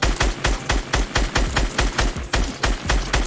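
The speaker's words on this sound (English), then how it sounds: "Your goal is to try and shoot all the white blocks as fast as you can." Rapid, regular gunfire in Fortnite aimed at white blocks on a practice course, about a dozen evenly spaced loud, close shots in quick rhythm with no talk over them.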